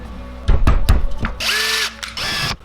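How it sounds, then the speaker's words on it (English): A 12 millimeter Forstner bit cutting into a wooden lure body, several short whirring drill bursts and then two longer high-pitched spinning runs, close and clear with no talking. "I'm gonna go with a 12 millimeter Forstner bit for those radiuses."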